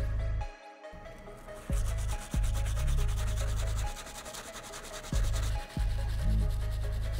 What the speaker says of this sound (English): This shows you that the brass bristle really works on soles.